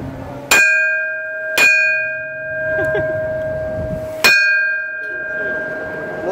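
A bell at a police station is struck three times, each loud metallic clang ringing out with a long, shimmering sustain; the second and third strikes come after uneven pauses, with faint background noise between.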